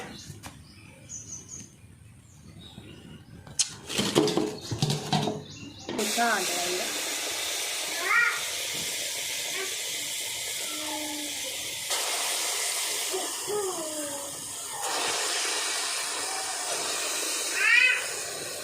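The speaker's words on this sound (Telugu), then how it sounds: "పిల్లి వచ్చిందిరా. పిల్లి చూద్దురా" A cat meows several times, short rising cries near at hand, over a steady hissing background with some earlier clatter and faint voices.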